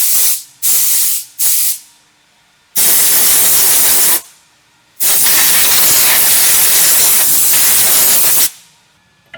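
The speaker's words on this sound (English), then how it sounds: "let me blow this off, get all this dust out of the way" Compressed air is blown in loud bursts to clear dust off the old brakes of a 1969 Mustang during wheel cylinder and hose work: three short blasts, then two long sustained hissing sprays.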